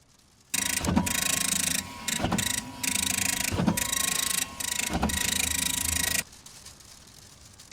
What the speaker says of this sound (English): I'm going to choose this printer file I have here.